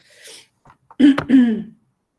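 Two sharp, close coughs in quick succession, preceded by a faint breathy rustle, then silence, during an analytical chemistry class.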